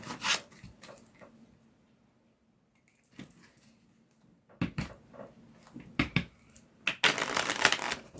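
Someone shuffles a deck of tarot cards in quick papery riffles and slaps, close and crisp, in bursts separated by a quiet pause, with the busiest flurry at the end.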